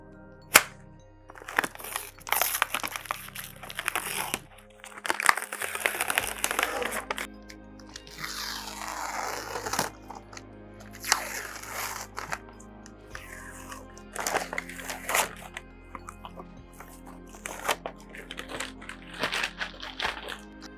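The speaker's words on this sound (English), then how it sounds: "I'm going to go ahead and try to peel off the back masking" Protective masking film peeled off an intricate acrylic sheet gives close, irregular crackling and crinkling bursts, with short pauses between pulls and faint background hum.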